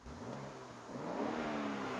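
A BMW X3 M with its variable exhaust switched off revs up under throttle, a muted, rising engine drone that swells steadily and stays fairly quiet and smooth, heard from inside without talk.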